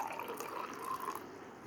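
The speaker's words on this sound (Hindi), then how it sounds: "इसलिए हाफ़ गिलास और पानी का ऐड करती हूँ" Water is poured into a glass of sikanjabin lemonade, about half a glass added, making a continuous close trickling and filling sound that stays steady throughout.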